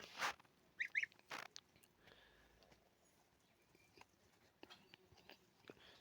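Geese carried outdoors into fresh air give a few short honks and cackles near the start, then scattered faint calls and rustling over a quiet background.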